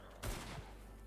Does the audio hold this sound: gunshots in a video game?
yes